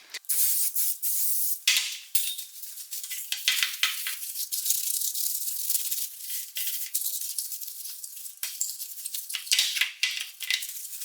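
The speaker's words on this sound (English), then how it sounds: "So first let's go with brake cleaner." Long hissing bursts of brake cleaner sprayed from an aerosol can, several pulses in a row with brief gaps, close and loud.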